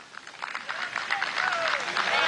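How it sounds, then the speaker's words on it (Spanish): Applause from a crowd at the launch of a cereal-sowing season in Venezuela, steady and fairly loud, building slightly over a couple of seconds, with a thin whistle sliding downward partway through. "Aquí también los aplaudimos desde aquí."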